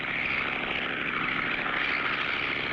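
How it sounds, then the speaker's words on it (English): A steady, droning aircraft engine holds at an even level throughout, like a small plane flying by at moderate distance. "We'll pick up the plane at Joe's hangar and hightail it back before more damage is done."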